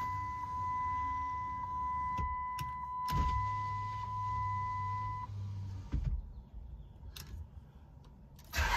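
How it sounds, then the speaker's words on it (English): Close electric motor whirs in a couple of short bursts as car windows slide down, with a faint steady tone and clicks around it. "Let's get these windows down."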